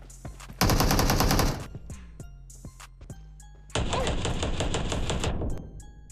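Rapid automatic gunfire in the mobile shooter BGMI / PUBG Mobile, fired from behind cover: two loud sustained bursts separated by a gap of scattered single shots and clicks, close and dominant with no talking.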